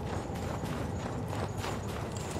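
Horse hooves clip-clop in a steady, even gallop through the video game Darksiders, loud and close against a constant backdrop of game sound, with no talking.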